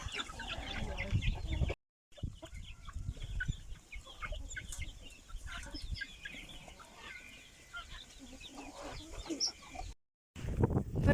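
Chickens cluck and chatter throughout, a busy flock close by with scattered calls, broken by two brief gaps of silence.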